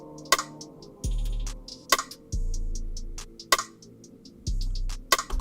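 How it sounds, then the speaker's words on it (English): A rim snare programmed in FL Studio cracks sharply about every one and a half seconds, with faint ticking hi-hats and long, low bass notes filling the gaps. "I added a rim snare"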